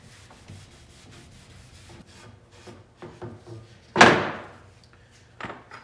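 Hand rubbing hard, cold paste wax into wood with soft scuffing strokes, then one loud close rasping swipe and a shorter one after, quiet in between, no voices.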